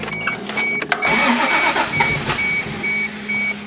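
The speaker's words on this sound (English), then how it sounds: "Now that he's moved, we're gonna crank it back up." A rebuilt Toyota 7M-GTE engine cranks briefly, then catches and starts, settling into a loud, close, slightly rough idle, with a high whine running throughout.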